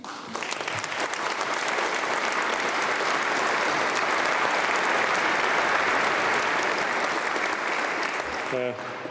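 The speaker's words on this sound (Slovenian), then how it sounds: "jaz mislim, da si zaslužijo tudi en aplavz" Sustained, dense audience applause at a New Year's gala concert fills the whole stretch at a steady loud level, fading off near the end with a few faint sounds.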